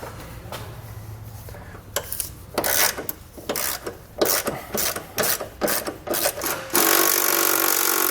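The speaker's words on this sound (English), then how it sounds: "We're going to break all these bolts free." A 12mm socket on a ratchet breaks the bolts free on a Curt trailer hitch receiver installed on a 2015 Infiniti Q50. Repeated short rasping clicks come close up in uneven bursts, followed by a steady hiss of noise.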